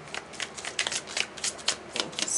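Tarot cards being shuffled by hand, a quick run of papery riffles and soft slaps with an uneven rhythm, close and fairly quiet, with no talking.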